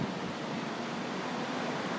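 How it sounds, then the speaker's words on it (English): A steady, dense rush of water pours through without letup, a broad continuous wash like surf with a hint of wind noise over it and no voices. "There's a lot of water coming through here."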